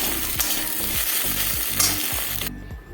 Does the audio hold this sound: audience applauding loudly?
no